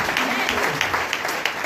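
A congregation at a Sunday worship service in Dakar applauds, a dense wash of clapping with a voice talking over it.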